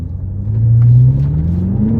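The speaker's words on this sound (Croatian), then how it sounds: "zvučna kulisa ovog auta kad ga upalite, kad prvi put proradi na hladno, je otprilike Barry White" The 4.4-litre twin-turbo V8 of a BMW M6 Competition, rated about 600 hp, starts cold and revs. A deep, loud rumble swells to a held, booming rev and then settles into a throaty idle close by.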